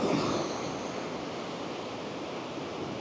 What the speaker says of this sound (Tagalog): makipaglaro na tayo sa mga alon